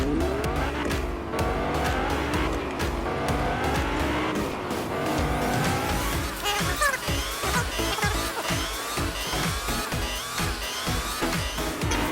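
A car laps a race course in Fortnite, its engine revving and shifting continuously with repeated tire squeals through turns, loud and busy from start to finish.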